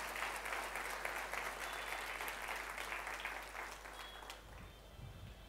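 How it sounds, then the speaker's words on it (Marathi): A church congregation claps loudly for Jesus, a dense, steady wash of applause from many hands that fades slightly near the end. "जोरात टाळ्या वाजव येशूसाठी."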